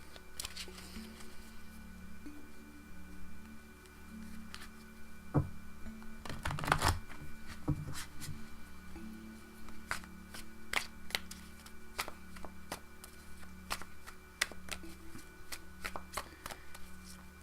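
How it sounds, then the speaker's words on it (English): Tarot cards being shuffled by hand in a quiet room for a reading, a steady run of soft riffling and snapping bursts, with a louder cluster of card slaps in the middle, no talking. "give me a moment to center myself and shuffle these cards"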